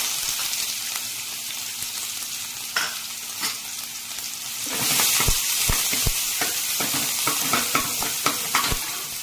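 Onion and asafoetida are tipped into hot oil with curry leaves for a soybean masala. A sudden loud sizzle erupts and then keeps going, with stirring clinks and scrapes in the pan and no voices.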